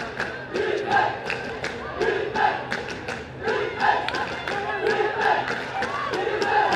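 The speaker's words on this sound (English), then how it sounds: "You really hear the Singapore contingent in the crowd right now." Singapore supporters cheer and chant from the stands at the final game of the WFDF 2015 Asia Oceanic Ultimate Championships. Rhythmic shouts and bursts of voices rise and fall continuously, with a few claps and thumps in the mix.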